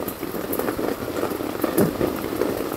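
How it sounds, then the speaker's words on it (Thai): Heavy rain falls steadily at a campsite with a tent and cabin nearby, a dense, continuous hiss of drops on surfaces with no one speaking. "ฝนตกหนักมากหนักมาก"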